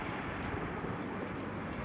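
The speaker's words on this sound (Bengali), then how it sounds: "দেখো বৃষ্টি পড়ছে" Steady rain pours down on a cloudy day, a dense, even patter of drops hitting surfaces nearby, continuous and unbroken with no voices over it.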